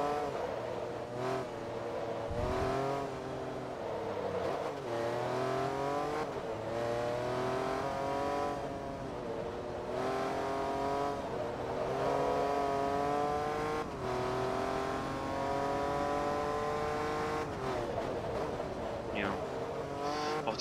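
A Jaguar race car in the video game Forza Motorsport 2 revs and accelerates through repeated gear changes during an endurance race, its engine tone rising and dropping steadily, with a brief tire squeal.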